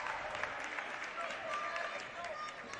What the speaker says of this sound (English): Both crowds starting to get animated.